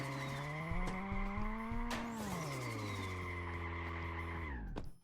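A car in the video game Streamer Life Simulator 2 produces a loud tonal engine whine with tire squeal, pitch rising then dropping steadily over five seconds before cutting off abruptly.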